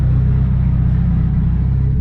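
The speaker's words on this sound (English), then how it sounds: "See, the engine's running." A car engine idles steadily in a close, continuous low rumble with a constant hum and no revving.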